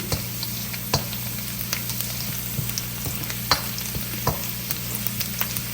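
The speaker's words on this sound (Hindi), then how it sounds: "लहसुन को बस हमने हल्का सा इसमें जो है फ्राई करना है" Garlic frying gently in a pan for bang bang chicken sauce, a soft continuous sizzle broken by sharp spoon taps and clicks against the pan at irregular intervals, without speech.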